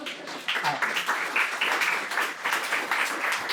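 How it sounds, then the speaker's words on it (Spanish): Audience at a talk on Ming porcelain from the 1558 Espadarte shipwreck breaks into applause, many hands clapping in a dense, steady wash that holds for several seconds in an indoor room. "por favor, un aplauso para Virginia"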